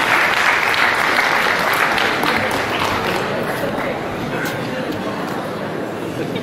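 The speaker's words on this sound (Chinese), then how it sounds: "谢谢您掌声鼓励" Audience applause at a crosstalk show, a loud dense burst of clapping from the start that stays even and slowly eases off across several seconds.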